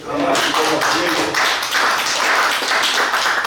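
An audience claps at a general meeting of a memorial society: dense, steady applause from many hands lasting several seconds, loud and close, after a voice speaks briefly at the start.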